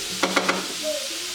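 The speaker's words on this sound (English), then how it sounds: "let's just mix this around a bit" Tofu scramble stirred in a hot pan, three quick scraping strokes followed by a faint sizzle and a thin whine, all close and brief.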